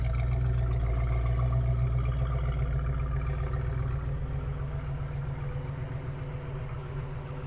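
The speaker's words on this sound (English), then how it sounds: "So let's hear the engine." A 1967 Chevrolet Chevelle SS convertible clone idles close by, its engine holding a steady low rumble that fades slightly over several seconds, with no talk.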